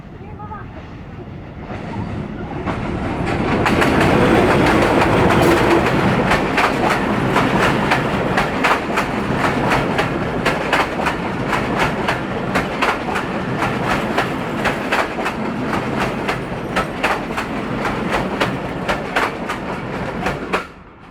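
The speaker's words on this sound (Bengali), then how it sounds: "ট্রেন দেখা হয়ে গেছে" A train rolls past on railway tracks, loud and close, with steady clickety-clack of wheels over rail joints building up after a quiet start and continuing throughout, while people talk faintly nearby.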